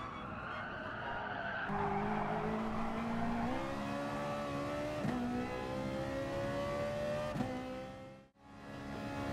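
Gr.3 race cars lapping Fuji International Speedway in the GT Sport video game, a loud sustained engine drone with rising gear-shift pitch sweeps and tyre skid noise into a corner, no talk.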